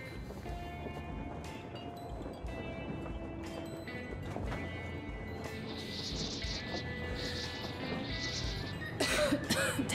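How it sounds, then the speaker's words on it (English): A character in the video game Metro Exodus coughs and clears their throat repeatedly against a busy, layered in-game background, with a rougher burst near the end. "Damn coughing."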